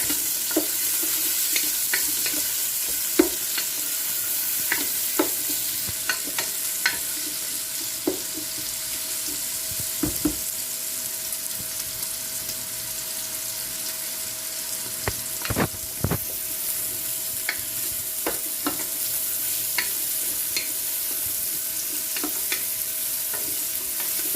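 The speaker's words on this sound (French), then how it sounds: "On va laisser frire un peu les oignons d'abord." Onions frying in hot oil in a pan for a Kabyle meatball dish: a steady, close sizzle that runs throughout, with occasional sharp clicks and scrapes from stirring and no talking.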